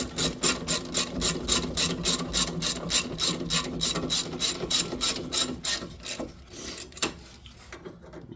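A ratchet clicks in a steady rapid series of pawl ticks as brake caliper bracket bolts are tightened on the rear brakes of a 2004 Buick Century, close and fairly loud, slowing and stopping near the end with no talk.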